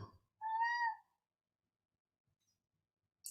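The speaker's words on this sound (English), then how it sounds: "hear that the saddest meow in the world?" A single drawn-out cat meow, clear and close, followed by quiet.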